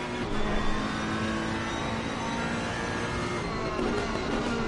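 Porsche race car engine roaring steadily during a race at the Zolder circuit, a sustained loud whine with rising harmonic tones as it accelerates alongside other cars, close and continuous throughout.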